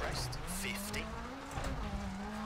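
Rally car engine note with tires scrubbing as the car slides sideways on a stage in EA WRC, a steady mid-pitched drone with rising revs, faint and under someone talking.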